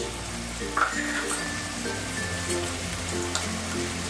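Garlic and ginger sizzle in hot oil while a fish head and cabbage dish is being cooked, making a steady close crackling hiss with a few brief clinks and no voices.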